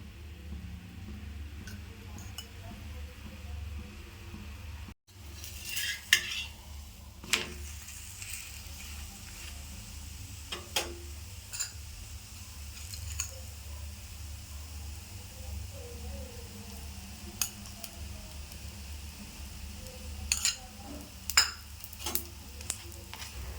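Chapati fries in a little oil on a pan, producing a soft continuous sizzle under a steady low hum, with occasional light clinks and scrapes of turning.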